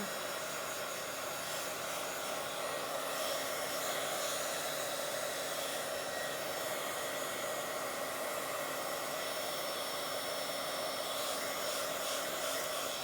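A hair dryer blows steadily on a wet painted Bible journal page, a loud, constant close whoosh with no pauses for the whole stretch.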